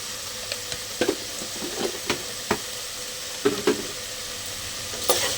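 Green peas for a peas masala frying in a pan with salt and turmeric, giving a soft, even sizzle that runs throughout, broken by scattered light stirring clicks and scrapes at irregular intervals; nobody speaks.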